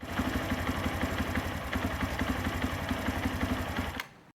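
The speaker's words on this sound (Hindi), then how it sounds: "अपना जो इंजन है इसे 10 से 15 मिनट चालू रखना है, ताकि अपना जो इंजन है वार्म अप हो जाए" A motorcycle engine idles to warm up after an engine flush, a steady rapid rhythmic putter held close and loud until it cuts off abruptly just before the end.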